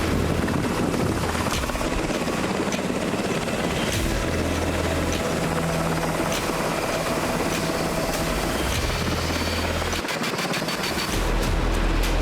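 A Black Hawk attack helicopter thunders close and loud, its rotor blades thudding in a steady beat over a constant engine roar, with some sharp bursts layered in.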